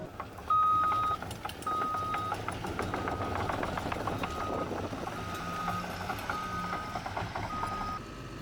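A new custom-painted bulldozer climbs a pile, its engine droning steadily beneath repeated electronic beeps, close and fairly loud with no voices.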